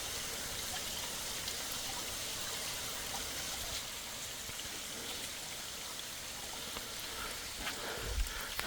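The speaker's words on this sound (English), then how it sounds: "We got a waterfall." Steady rushing water of a small waterfall on the Dix River in Kentucky's Palisades, a continuous broadband wash heard up close and alone, with a brief low thump near the end.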